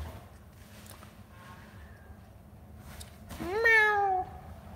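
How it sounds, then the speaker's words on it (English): A cat lets out one loud, drawn-out meow near the end, rising then falling in pitch, after a few fainter mews over a low hum of background noise. "My God, those cats are so loud."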